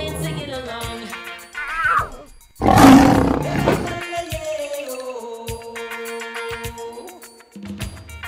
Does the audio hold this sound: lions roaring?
yes